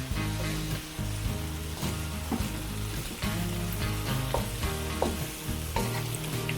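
Fried fish is stirred in adobong paksiw sauce with lemongrass, a steady close sizzle broken by repeated scraping stirs against the pan, with no talk.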